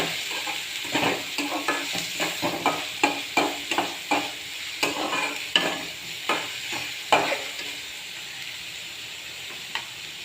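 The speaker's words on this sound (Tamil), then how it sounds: "நல்லா வதக்கணும்" Onion and garlic sauté in a pan for beetroot poriyal, sizzling softly under a quick, rhythmic series of spatula strokes that scrape and tap the pan. The strokes slow and fade toward the end, with no talking.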